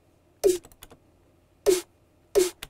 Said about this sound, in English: I just like the tail of this snare itself